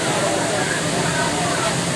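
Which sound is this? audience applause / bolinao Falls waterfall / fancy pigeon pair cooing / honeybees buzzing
bolinao Falls waterfall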